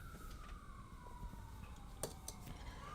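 Distant ambulance siren in a residential area at night, a faint wailing tone slowly falling in pitch, with soft background noise and a few light clinks nearby.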